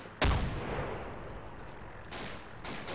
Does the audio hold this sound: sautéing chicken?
no